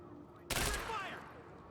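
A single sharp burst of gunfire in the shooter game Quantum Break, loud and close, with a ringing tail that fades over about a second after a quiet start.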